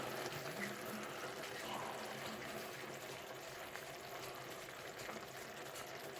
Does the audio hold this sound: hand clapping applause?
no